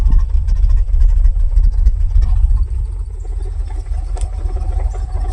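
A 1977 Chevrolet Squarebody pickup's engine idles low and steady, a deep continuous rumble close by that holds alone throughout.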